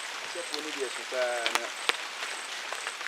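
Rain falls steadily on a farm as a constant soft hiss with scattered drips and taps, while people talk quietly nearby.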